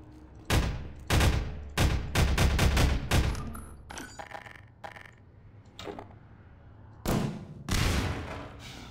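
Bursts of automated turret gunfire in Half-Life 2, loud rapid volleys in several clusters with short pauses between, ending in two more late bursts, no talking over them.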